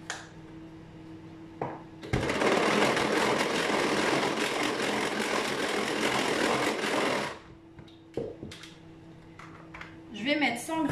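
An electric mixer whirs steadily in a kitchen for about five seconds while a batch is mixed, starting abruptly and cutting off, with quiet kitchen sounds and brief talk before and after.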